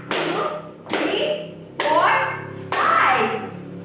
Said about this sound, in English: let's give a 5 claps to Riza